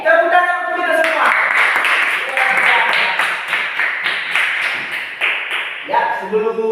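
Children in a primary school classroom clap their hands in a quick, rhythmic burst of many claps, with a voice heard at the start and again at the end.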